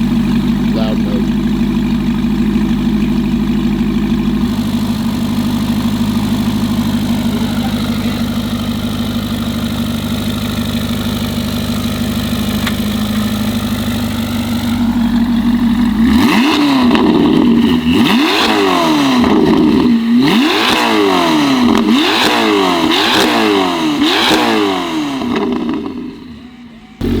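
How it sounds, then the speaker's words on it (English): Chevrolet Corvette ZR1 on a dyno in loud exhaust mode: a steady low idle rumble, then from mid-clip a run of loud, rising and falling revs with turbo whoosh, ending in a deep roar as it winds down. "I like that turbo spooling."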